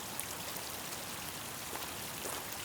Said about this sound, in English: it's got a really nice sound, a lot of water going on there